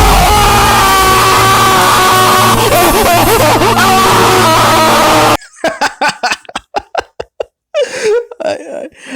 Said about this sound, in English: It's just the scream or something about it. It's so exaggerated